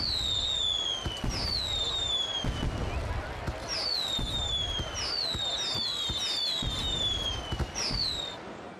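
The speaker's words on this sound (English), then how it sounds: "There's, like, a firework going on over here." Fireworks in the Roller Coaster Tycoon World video game: whistling rockets rise repeatedly over a steady crackle and popping bursts, continuous and fairly busy through the whole stretch.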